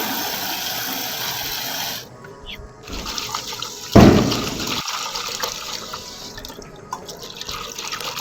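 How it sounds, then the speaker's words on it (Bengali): Running water splashing and pouring as malancha greens stalks are washed, with a tap stream that cuts out briefly, then a louder gush and continued trickling, no voices. "এখন ভালো করে জল দিয়ে ধুয়ে নেব"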